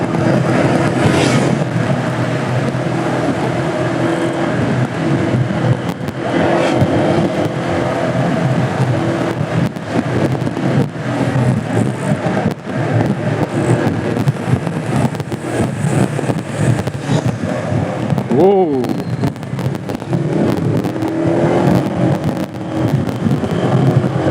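A race vehicle's engine throttles on a concrete track in a loud, sustained drone with fluctuating revs and a sharp pitch sweep near the end, heard without speech.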